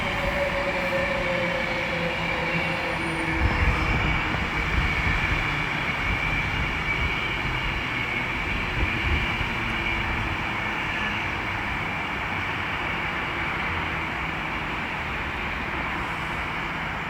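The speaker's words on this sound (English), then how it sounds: "you can now see the 1448 Avanti West Coast service from London Euston to Manchester Piccadilly" Avanti West Coast Class 390 electric train 390-020 passes through Milton Keynes Central station on the West Coast Main Line, a loud, steady rumble and rush of wheels and air that fills the whole stretch.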